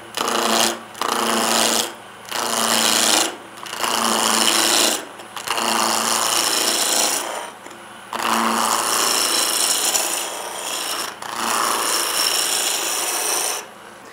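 A wood lathe turning a spindle between centres, tool cutting the wood in repeated rasping strokes separated by short pauses, close and steady.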